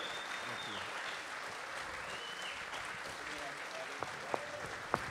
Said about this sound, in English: Just want to give a big round of applause to these two beautiful cats